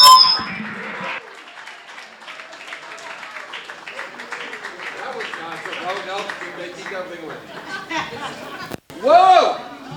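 A conference audience claps, cheers and whistles to welcome a film producer on stage, a dense crowd roar with sharp whistles rising at the start and again near the end.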